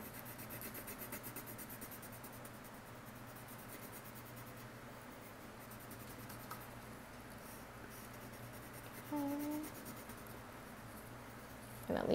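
A marker or colored pencil rubs steadily across paper while a dream catcher drawing is colored in, a close, quiet continuous scratching with no talk.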